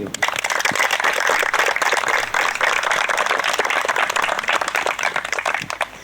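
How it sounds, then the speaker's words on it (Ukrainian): A crowd applauds the defenders at a youth-day sports competition, loud sustained clapping that fills the whole stretch and tapers slightly at the end. "Просимо оплесками підтримати наших захисників"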